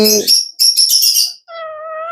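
A talking parrot, one of the young parrots kept for sale, calls up close and loud: a short low squawk, then a run of bright chattering shrieks, then a steadier whistled tone.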